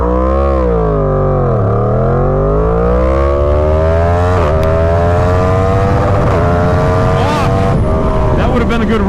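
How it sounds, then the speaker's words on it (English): A Yamaha FZ10 motorcycle accelerates hard from a standstill toward 100 mph with traction control off, engine pitch climbing steadily through the gears with brief dips at each shift, loud and close with constant wind roar. "Yamaha Fz10, traction control in the lowest setting"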